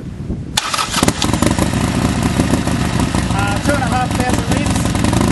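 A Harley-Davidson XR1200 motorcycle fitted with Harris exhaust pipes cranks and fires up close by, then settles into a loud, deep, steady idle, with voices talking over the engine.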